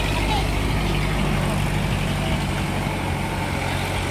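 A vehicle engine, probably a truck hauling coconuts near a river dam, idles with a continuous low rumble throughout, while voices talk over it.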